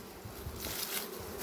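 Honeybees crowded at the bottom of a migratory hive kept on low frames, a soft, continuous buzzing hum close by, quiet and steady with no voices.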